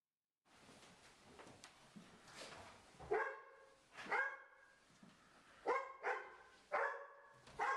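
A police dog barks during a tactical building search, several sharp, loud barks coming in bursts after a quieter stretch of shuffling movement indoors.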